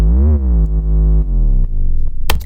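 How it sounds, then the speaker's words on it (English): A deep 808 bass roll built with transposition modulation on the waveform, a loud booming tone that bends in pitch and stutters into rapid retriggered hits near the end, heard alone. "And also the rolls in it, I used the technique where I did transposition modulation on the wave itself"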